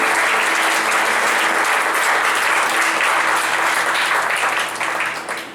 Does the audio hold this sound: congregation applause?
yes